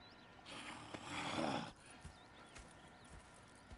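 Horses in Red Dead Redemption II clip-clop and snort close by, with a brief whinny in the middle, heard alone without talk over a few seconds.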